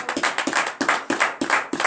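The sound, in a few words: congregation applause at church service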